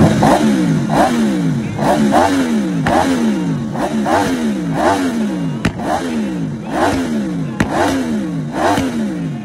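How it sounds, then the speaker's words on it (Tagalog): A CFMoto 1000cc V4 sports motorcycle engine revs repeatedly, a loud close series of rising and falling throttle blips in a steady rhythm with sharp pops between revs. "Ang tunog nga po ng V4 engine guys is talagang napakamaskulado nga po, talagang napakalutong."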